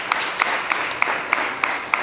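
Rhythmic claps ring out at a steady, even pace, roughly three per second, over a broad wash of crowd applause at a sermon.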